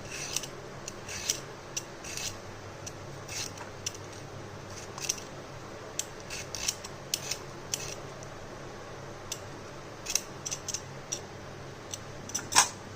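The skin of a teasel gourd (kakrol) is scraped clean with a blade, giving soft, irregular scratchy rasps and small clicks, quiet and close, spaced out with short pauses.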